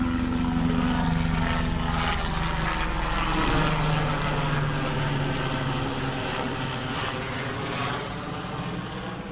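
A helicopter's rotor drones steadily and loudly overhead in Nepal, a throbbing, pulsing roar that holds for several seconds with no voices.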